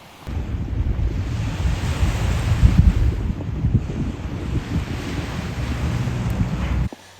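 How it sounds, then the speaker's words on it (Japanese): Ocean waves wash onto the shore at the Marine Oasis Hakata seaside roadside station, a steady loud surf roar mixed with gusting wind buffeting the microphone, continuous for several seconds before cutting off abruptly. "波の音が聞こえる"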